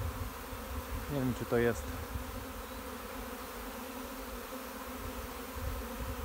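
A honeybee swarm at an apiary hums in a steady, dense buzz throughout, with a few closer individual bees droning past briefly near the start; a voice speaks quietly under the buzzing.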